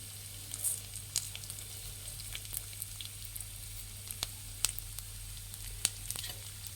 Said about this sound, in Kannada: ಇದು ಲೋ ಫ್ಲೇಮಲ್ಲಿ ಇಟ್ಟು ಫ್ರೈ ಮಾಡಬೇಕು. ಗೋಲ್ಡನ್ ಬ್ರೌನ್ ಬರೋವರೆಗೂ ಫ್ರೈ ಮಾಡಬೇಕು.